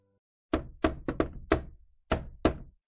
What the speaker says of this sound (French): on frappa à la porte d'entrée pour la première fois depuis des semaines ou des mois